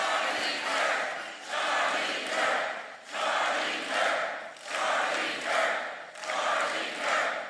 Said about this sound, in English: I want everyone to raise them up and cheer for Charlie